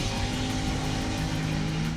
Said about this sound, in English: Drag racing down a neighborhood street.